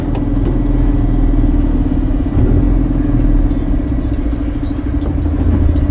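Iveco Eurocargo 7.5 ton truck driving, a steady droning diesel engine and road rumble heard from inside the cab, loud and continuous.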